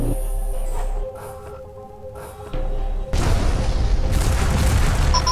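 Heavy impact explosion in the space-combat game Freespace 2, a deep booming burst that swells into a loud, sustained rumbling roar after a quieter stretch of hum.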